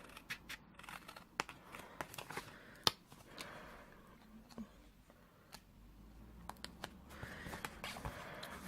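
Scissors snipping through card while making a love-heart treat box, a run of sharp, close clicks and cuts at irregular intervals over a quiet room, with faint rustling of the card between snips.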